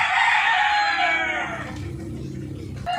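A fighting rooster crows loudly and close by, its long call rising then trailing off into quieter clucking.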